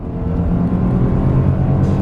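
A 1988 Porsche 924S four-cylinder engine drones in a steady low rumble, close and fairly loud, holding an even tone throughout with no voices.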